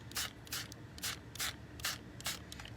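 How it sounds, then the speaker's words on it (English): Quick, soft spritzes from a spray bottle misting water onto a card-making panel, about six evenly spaced puffs in a steady rhythm, close and quiet. "I'm going to remember this time to spray my panel"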